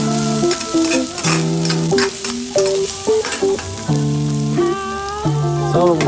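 Squid stir-fries in a pan, a bright sizzle and stirring clatter running under prominent melodic background music.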